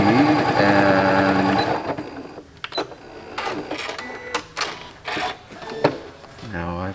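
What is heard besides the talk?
sewing machine stitching quilt blocks in the ditch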